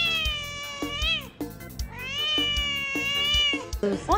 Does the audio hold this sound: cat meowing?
yes